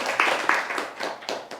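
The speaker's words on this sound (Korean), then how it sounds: "여러분 박수 한번 부탁드립니다." A seminar audience gives brief, light applause, a few distinct claps standing out over a soft patter, fairly close and fading quickly.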